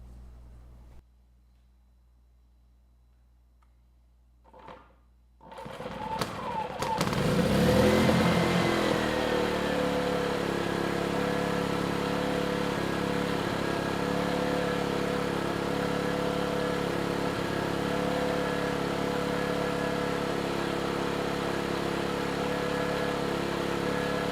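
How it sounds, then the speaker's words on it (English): A small Erayak 4500PD portable generator engine is quiet at first, then sputters, catches with a rising roar, and settles into a steady, loud running drone that continues to the end. "we'll try starting the engine"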